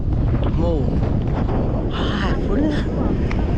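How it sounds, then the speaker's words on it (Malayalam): Strong wind roars continuously across the microphone, loud and gusty, while people talk over it. "ജാതി രക്ഷയില്ലാത്തൊരു കാറ്റ്"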